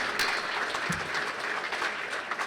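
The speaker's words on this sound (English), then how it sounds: "Yes, a round of applause, please," Applause from an audience at a Buena Park State of the City event, a steady broadband patter of clapping filling the room for a couple of seconds without speech.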